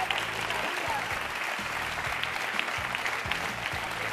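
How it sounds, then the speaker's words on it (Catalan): Studio audience applause on a Catalan TV game show, a steady dense wash of clapping that carries on at an even level throughout. "Va, un fort aplaudiment, va."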